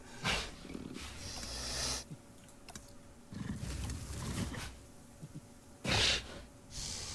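Large dinosaur in the Jurassic World Evolution 2 video game sniffing and snorting at the air, several breathy bursts and low growling snorts spaced through the moment, with a sharp louder exhale near the end, no voices.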